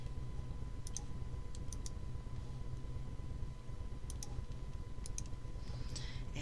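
Computer mouse clicks while arranging blocks in quilt design software, a handful of crisp, quiet clicks spaced irregularly, often in pairs, over a low steady hum.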